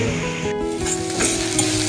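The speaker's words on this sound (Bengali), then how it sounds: "পেঁয়াজটা ভাজা হয়ে গেছে" Chopped onions sizzle steadily in a hot pan while being fried for a dhaba-style chana dal tadka, a close, continuous crackle with occasional stirring and no voices.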